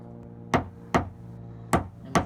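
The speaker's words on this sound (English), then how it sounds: "sometimes you gotta tap on the car" Four sharp metallic taps on a dented 2018 Toyota 4Runner panel during paintless dent repair, irregularly spaced, close and fairly loud against a quiet hum.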